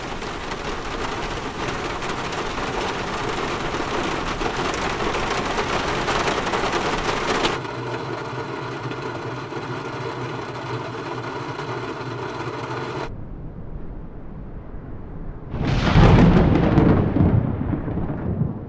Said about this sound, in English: We also have rain, thunder, and even storm for a complete weather experience.